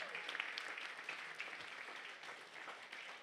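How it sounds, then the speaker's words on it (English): Applause from an audience at a Big Brothers Big Sisters of Northern Sierra fundraiser, a soft, steady patter of many hands clapping at moderate distance, fairly quiet and even throughout. "Folks, a huge round of applause."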